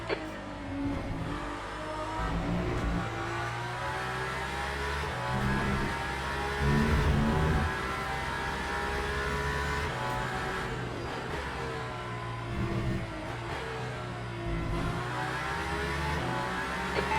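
Race car engines roar steadily in the Le Mans Ultimate sim at Imola, a dense mid-pitched drone with gear shifts and pitch swells as faster and slower class cars run close together, loud and continuous.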